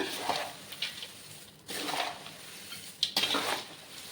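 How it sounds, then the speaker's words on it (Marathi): Namkeen chivda being tossed and mixed with a plate in a pan over low heat, three scraping, rustling bursts with the plate clinking against the metal. "त्या प्लेटच्या साह्याने इझिली तुमचा चिवडा एकत्रित होणार बघू शकता"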